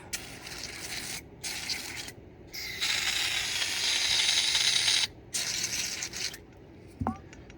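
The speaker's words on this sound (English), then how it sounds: "Spray the whole carburetor off." Bursts of hissing aerosol cleaner sprayed on a lawn mower carburetor, long and short, with brief pauses between them, close up, ending with a small metallic clink.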